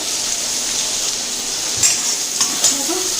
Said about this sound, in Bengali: পেঁয়াজ রসুনটা কষানো হয়ে গেছে